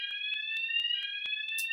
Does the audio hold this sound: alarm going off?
yes